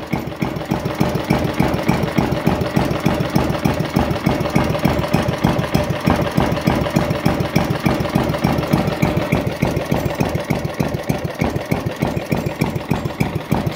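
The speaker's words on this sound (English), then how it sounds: "Only a real good engine can idle that, like," Kubota GS 160 engine idling at a steady, even tick-over, with dense regular firing pulses running evenly throughout, close and fairly loud with no talk.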